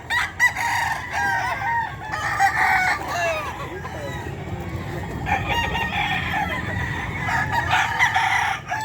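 Stag roosters at the Bocaue pet market crow repeatedly, long calls rising in bursts over scattered clucks and a steady market murmur, some birds near and others farther off.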